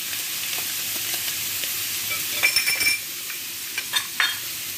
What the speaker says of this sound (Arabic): دابا غادي نشحرو الكفتة مزيان حتى تشحر لينا